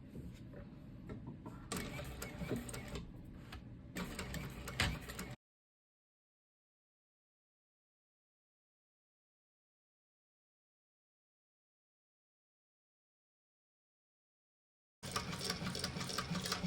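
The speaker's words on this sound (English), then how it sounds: "Now we're going to sew all the way around using the seam allowance given in the pattern." Sewing machine stitching around the seam of a Gabriella handbag at a steady pace, a run of about five seconds, then long silence before the motor runs again near the end.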